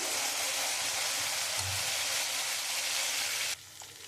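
Water poured onto spice masala frying in oil in a pan for a kakrol curry, a loud dense hiss and sizzle that drops off abruptly near the end, with no talking.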